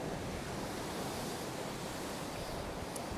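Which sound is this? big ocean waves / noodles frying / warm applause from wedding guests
big ocean waves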